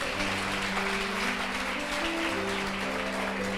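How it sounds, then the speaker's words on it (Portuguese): A church congregation applauding at a worship service, a continuous, fairly loud wash of clapping with a steady sustained tone beneath it. "Aplauda ao Senhor bem forte que Ele merece."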